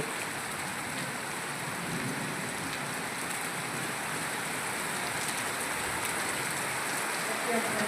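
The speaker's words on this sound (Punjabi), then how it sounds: "ਦੇਖੋ ਗੜੇ ਹੋਣ ਲੱਗੇ ਮੀਂਹ ਦੇ ਨਾਲ ਨਾਲ" Rain mixed with hail comes down in a dense, steady hiss with fine pattering on surfaces, loud and continuous throughout, without a voice.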